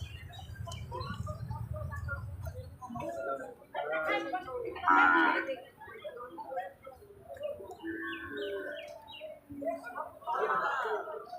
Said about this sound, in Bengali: এই হাটে ঘোড়া, মহিষ, গরু, ছাগল সবগুলাই ওঠে।